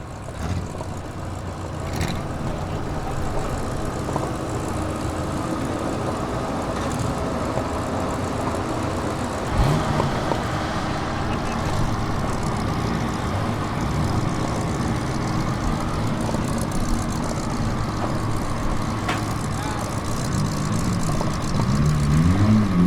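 A car in a winter demolition derby on an ice arena rumbles steadily through roughly twenty seconds of dense, loud engine noise and crowd din, with occasional sharp knocks and thuds.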